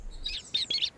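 Baby bird chirps just after hatching from its egg: three or four short, high tweets in quick succession, fairly close and clear, with no talking.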